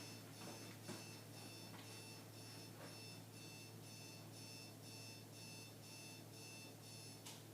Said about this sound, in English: As you can hear, I have an alarm going off.